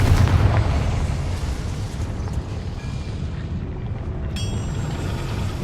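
A Confringo blast spell goes off in the Hogwarts Legacy video game, a loud, rumbling explosion that booms at the start and then settles into a long, dense roar and crackle of debris.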